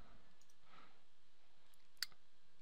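A single crisp computer mouse click sounds near the end of a very quiet stretch, brief and close, with only faint room hiss around it.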